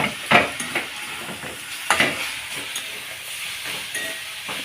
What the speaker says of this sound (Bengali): এইদিকে আমার শাক ভাজাভাজি হয়ে গেছে